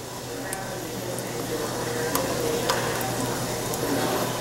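Chicken and basil pizza casserole mixture stirred in a pan, a steady soft sizzling and scraping texture with faint clicks of the utensil, continuous and close throughout.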